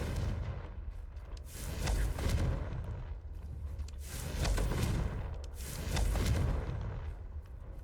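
Confringo fire spell explosions in the Hogwarts Legacy video game, three rolling booms swelling and fading at a steady pace, with a deep rumbling blast between them.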